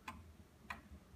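An antique five-foot, heavily carved musical Black Forest cuckoo clock from the late 19th century ticks twice, faint, evenly spaced soft clicks about half a second apart over a quiet room hush.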